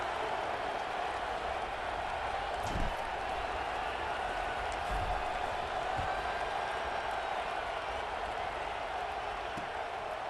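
A stadium crowd in EA Sports College Football 26 keeps up a steady, broad roar with scattered claps and cheers, holding level throughout at moderate loudness.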